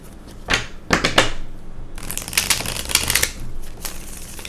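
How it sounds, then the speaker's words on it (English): Deck of tarot cards being shuffled by hand in a quiet room, with several crisp riffling bursts and flutters, close and fairly loud, occurring in quick irregular runs without any talk. "let's shuffle one more time."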